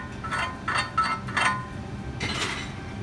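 A weld bead is cleaned in a welding lesson with a few short metallic scraping and clinking strokes, moderately close, over a faint shop background.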